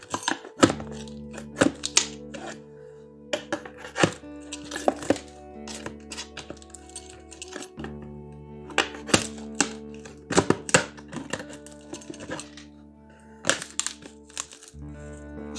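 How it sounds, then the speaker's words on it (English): Trim board being pulled and pried out of a skylight hole in a drywall ceiling, heard as irregular sharp knocks, cracks and clattering thumps with brief pauses, close by, with no speech. "I'm going to pull the rest of that trim board out of there."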